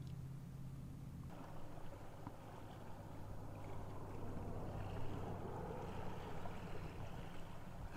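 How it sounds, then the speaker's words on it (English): Wind gusts at Rockport Beach on the Texas coast, a quiet, steady low rushing that buffets the microphone and swells slightly over time. "Feels like the wind is picking up a little bit"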